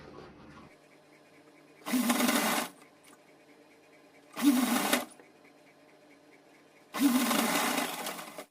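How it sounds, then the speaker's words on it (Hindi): A sewing machine stitches a small cotton dress for a Kanha idol in three separate bursts of close, steady whirring, each a little under a second long, with quiet pauses between them. "अब ऊपर से सिलाई लगा देंगे।"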